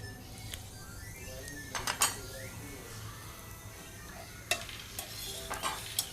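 Onion fries in a pan while a spoon stirs it, giving a gentle continuous sizzle over a low steady hum, broken by a few sharp clinks and scrapes of metal against the pan.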